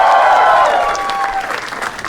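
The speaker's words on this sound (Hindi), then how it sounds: "जोरदार तालियां for Raghu Ram।" Studio audience on a comedy roast show claps loudly for guest Raghu Ram, a dense burst of applause that holds steady and thins slightly toward the end.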